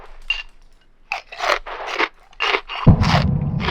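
Someone eats crunchy cereal close to a microphone, with a series of loud separate crunching bites and short pauses between them, ending in a louder rough crackling burst.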